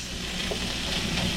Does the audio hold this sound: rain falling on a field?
no